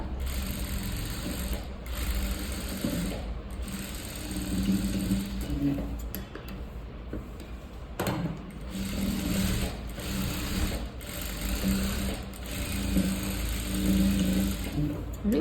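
A sewing machine straight-stitches a lined blouse in short, fairly quiet runs of rapid ticking, with small mechanical clicks and pauses between stitches.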